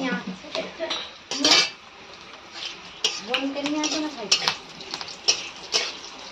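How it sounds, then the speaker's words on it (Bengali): Cashews and raisins fry in ghee with a bay leaf in a wok while a utensil scrapes and clinks against the metal in bursts, a quiet sizzle underneath and a person talking in between. "কাজু কিশমিশ খুব ভালো করে ভাজা হয়ে গেছে"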